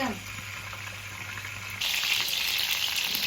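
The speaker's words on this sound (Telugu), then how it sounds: "ఓకే మరి వాటిని ఇలా ఊరికే తిప్పుతూ ఉండాలా?" Stuffed brinjals frying in a pan for a Telugu gutti vankaya masala curry, a steady soft sizzle with faint stirring that suddenly grows louder and brighter partway through, continuing alone without talk.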